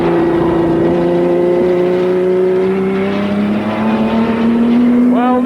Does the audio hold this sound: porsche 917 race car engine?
yes